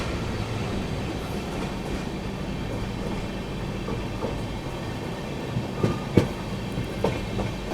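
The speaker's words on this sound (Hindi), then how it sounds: "ये रही दोस्तों हावड़ा जोधपुर सुपरफास्ट एक्सप्रेस।" The Howrah Jodhpur Superfast Express rolls past with a steady rumbling roar and wheel clatter, a few sharp metallic clanks standing out near the end, with no talk.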